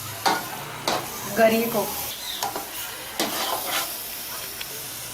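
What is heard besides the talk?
grated carrot halwa being stirred and roasted in a pan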